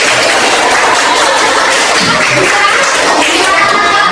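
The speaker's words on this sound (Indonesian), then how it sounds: "tepuk 2, tepuk 3, tepuk 4, tepuk 5. 2 kali tepuk 5." A group of students clap together in a counted rhythmic pattern during a school lesson, dense, steady and fairly loud throughout with no pause.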